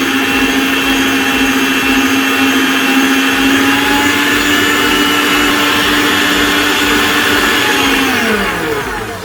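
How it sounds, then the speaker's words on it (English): An electric hand mixer whisks cupcake batter tinted with food colouring, a loud, close, steady motor whine that holds constant, then drops in pitch and winds down at the very end. "we're going to whisk them together"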